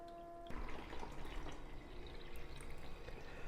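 A COWSAR portable countertop ice maker draws water up through the unit, giving a soft, steady trickling and gurgling with faint drips after a hum cuts in, heard close and quiet.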